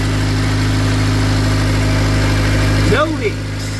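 A Honda car engine idles steadily after a fuel injector repair, a constant low hum with a faint mechanical tick running throughout, briefly overlaid near the end by a short rising and falling tonal sweep.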